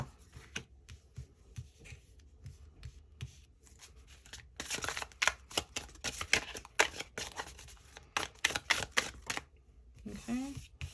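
A tarot deck is shuffled in bursts of rapid, papery riffling and flapping, close up and loudest midway through, with a short stretch of soft speech near the end.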